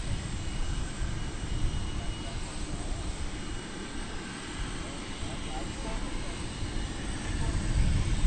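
Aircraft engine roar at DFW Airport, a steady low rumble of jet noise sustained throughout and swelling slightly toward the end, with a voice faintly present.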